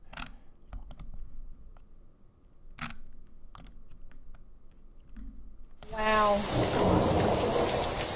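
Quiet intermittent clicks and taps give way to a sudden loud roar of heavy rain and pounding hail from a thunderstorm in Calgary, with a rumble underneath.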